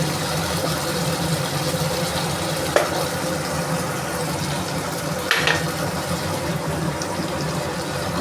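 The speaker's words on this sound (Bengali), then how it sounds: "ওই মশলার জলটা দিয়ে আরও একটু ভালো করে কষিয়ে নেব।" Spice paste loosened with spiced water, fried and stirred in a pan for fish curry: a steady, close sizzling hiss runs throughout, with a couple of brief clinks of the spoon.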